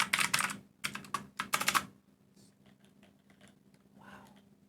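Bursts of fast keystrokes on a custom mechanical keyboard fitted with GMK Bushido keycaps, then sparser taps and soft clicks, close and fairly quiet.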